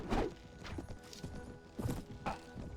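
Horse hooves clip-clop in uneven, quick beats during a Mount & Blade Warband battle, fairly close and moderately loud, with no talk.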